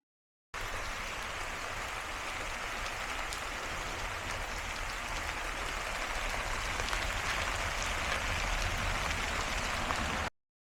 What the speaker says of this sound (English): this is our monsoon season, and it's just kind of this gentle rain